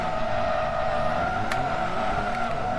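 Nissan S13 with an SR20 engine drifting steady donuts in a video game, its engine held at a constant high drone with faint tire squeal, continuous and loud with no voices.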